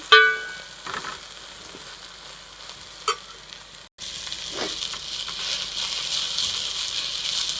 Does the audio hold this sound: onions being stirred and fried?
yes